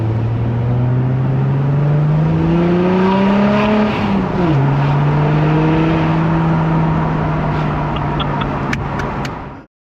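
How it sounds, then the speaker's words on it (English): A straight-piped 3-litre V6 diesel Audi A5 revs loud and close, its pitch rising steadily then dropping and settling into a sustained high hold before cutting off abruptly. "that's my 3-litre V6 Audi A5 straight piped"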